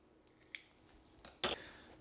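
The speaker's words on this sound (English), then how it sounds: "And then I'm going to cut the tip of my piping bag." A piping bag tip snipped with scissors while making madeleines, a few faint, soft clicks and one brief, sharper snip.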